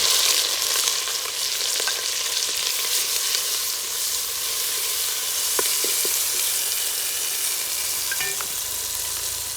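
Crushed ginger, garlic and chili fry in a hot pan for a Sri Lankan village-style wild pork curry, giving a steady, close, loud sizzle throughout with occasional scrapes and clicks of stirring.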